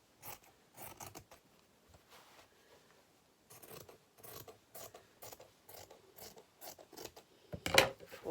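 Scissors cut fabric for a nine patch quilt in short snipping bursts with pauses between, quiet and close, ending in a brief sharper click, with no one talking.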